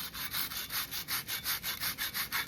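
A microplane grater rasps back and forth across a chocolate-covered s'more in about a dozen steady, even strokes, close and fairly loud with no talking.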